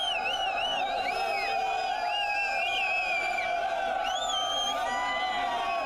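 Hundreds of RLP party workers crowd a road show in Kuchaman City, with dense continuous cheering, shouting and shrill whistles and whoops rising above the din.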